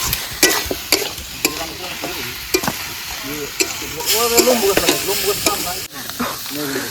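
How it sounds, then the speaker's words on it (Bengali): Loud, close sizzling of fish frying outdoors in village-style cooking, with sharp spatula knocks and scrapes, while a person talks briefly over the hiss. "ওইদিকে মাছ ভাজছে"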